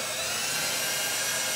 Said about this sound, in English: then we'll pull the trigger on slow speed on the drill